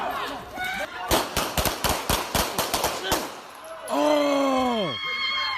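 Police gunfire during a real street shooting: a rapid volley of about a dozen loud, close shots in quick succession, followed by shouting voices and a rising wail.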